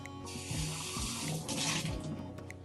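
Tap water runs into a tall, narrow soft-drink glass as it is wetted inside, giving a steady splashing rush with gurgling shifts in tone as the glass is turned under the stream.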